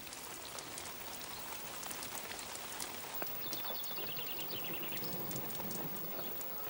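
Steady rain patters on a farm during a thunderstorm, an even close hiss of drops with scattered heavier splashes and a faint bird chirping in the background.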